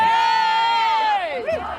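A crowd at Speakers Corner in Hyde Park shouts and screams in a loud, sustained outburst. One raised voice dominates close by and rings out over the mass of angry voices.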